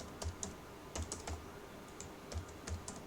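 Computer keyboard typing during an SQL lesson: a few separate keystroke clicks come in small bursts, close and fairly quiet, with short pauses between them and no speech.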